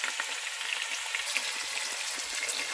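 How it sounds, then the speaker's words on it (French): Minced meat and onion fry in hot red oil, giving a soft, steady hiss with faint crackles throughout, fairly quiet and continuous with no speech. "Donc ici, on va faire revenir la viande"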